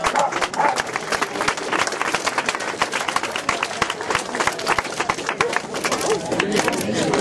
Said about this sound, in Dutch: En applaus ook nog eens nu natuurlijk.